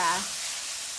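Onions sautéing in a hot pan, a close, bright, hissing sizzle that stays steady for a moment after a voice briefly speaks at the start.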